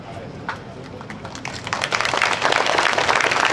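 A crowd claps at an outdoor political rally in Bandar Utama, starting as scattered hand claps and swelling into denser, louder applause, with a voice speaking over it.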